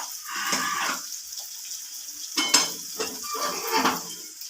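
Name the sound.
curry leaves added to a sizzling pan for masala pasta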